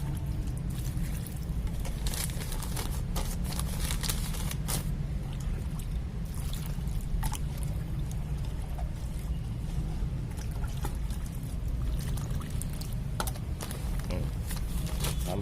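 Water poured steadily over a porous potting mix of bamboo leaves and rice husks, a continuous low wash with scattered small splashes and crackles, fairly close, with no voices.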